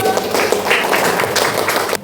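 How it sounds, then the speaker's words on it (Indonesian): Classroom applause from junior high students for group 1, a short burst of dense, loud clapping close by that stops abruptly near the end. "tepuk tangan untuk kelompok 1"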